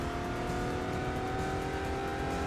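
Four-wheel-drive car with a six-speed transmission in Gran Turismo 3, its engine a steady, close, continuous drone with a sustained tonal whine throughout, alone with no talk over it.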